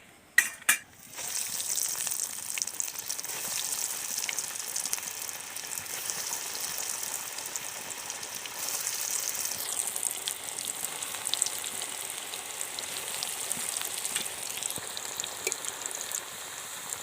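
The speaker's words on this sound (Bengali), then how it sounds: "বাকি চপগুলো আমি একই রকম করে ভেজে নিচ্ছি" Vegetable chops deep-fry in hot oil with a constant crackling, bubbling sizzle that holds steady and close for the whole stretch, after a brief clatter at the start.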